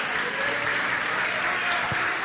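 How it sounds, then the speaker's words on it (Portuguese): A church congregation applauds together during a sermon, a steady dense wash of many hands clapping that holds at an even level throughout without any break. "Aplaude ao Senhor."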